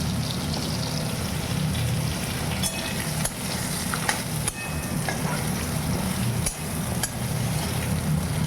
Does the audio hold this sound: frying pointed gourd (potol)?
yes